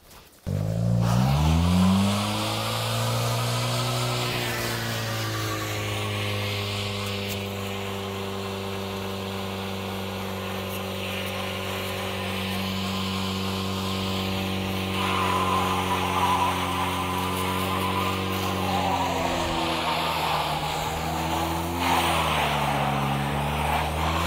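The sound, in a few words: two-wheel drive car with Quaife helical limited slip differential accelerating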